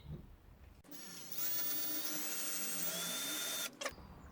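A power drill bores into the fiberglass rear arch of a BMW E30, one sustained high whine of about three seconds with rising pitch, near and alone, cut off sharply at the end.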